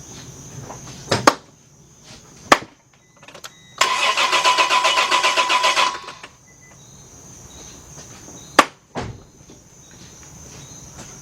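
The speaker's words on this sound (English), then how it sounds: "Let's crank that over for a few minutes, a few seconds." The engine of a Chevy LUV, Honda Passport or Isuzu Rodeo cranks without starting: a loud, close, rhythmic starter churn lasting about two seconds, with clicks and clunks before and after and a faint steady hum throughout.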